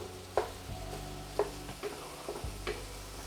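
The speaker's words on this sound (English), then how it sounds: "add our ground beef, and we're gonna cook it until it's brown all the way through" Salted ground beef browns quietly in a pan for taco pizza, with a soft, steady sizzle. A spatula breaks up the meat in a few distinct scraping knocks against the pan, spaced roughly a second apart.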